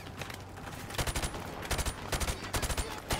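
Gunfire in the video game Call of Duty Modern Warfare Remastered: dense, rapid bursts of automatic fire and shots crackling in clusters, loud and close, with brief gaps between volleys.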